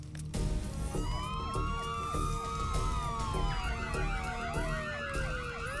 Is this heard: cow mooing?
no